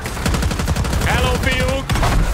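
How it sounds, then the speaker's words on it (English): Rapid automatic gunfire in Call of Duty: Black Ops 6, a dense stream of loud close shots running through the whole moment, with game voices and radio chatter layered underneath. "Weapons fire!"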